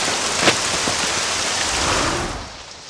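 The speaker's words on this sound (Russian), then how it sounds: "Кажется, дождь собирается." Steady rain pouring down in an animated cartoon, a dense hiss with a few sharper drops standing out, fading slightly toward the end.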